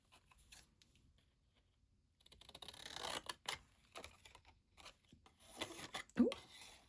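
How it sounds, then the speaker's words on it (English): Large scissors cut out a stamped white card for a floral card, giving a series of crisp snipping and crunching sounds after a quiet start, irregular and close. "Cut that out with the scissors, my big scissors"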